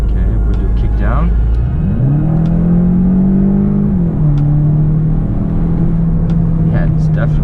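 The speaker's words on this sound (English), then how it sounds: "Okay, we do kick down." A Stage 2 tuned VW Golf GTE 1.4 hybrid accelerates hard on kick down, a loud rising engine drone climbing steadily in pitch, easing briefly around a shift, then holding a strong steady roar from inside the cabin.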